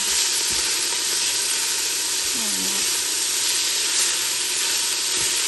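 Meat for birria tacos browns in a Ninja Foodi Smart XL pot, a steady broadband sizzle that runs unbroken for the whole stretch, loud and close, with a brief faint voice-like tone partway through.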